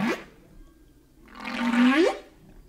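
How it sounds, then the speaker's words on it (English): Whale vocalizations: a short low moan followed by a louder, rising and falling call with a breathy, watery texture, heard alone and fairly close. "Whales, the sound of whales."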